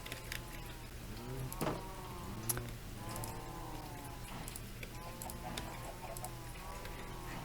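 Several Minecraft chickens cluck and squawk over a steady low electronic hum, with occasional sharper calls, moderately loud throughout.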